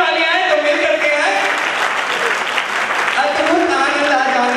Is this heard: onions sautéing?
no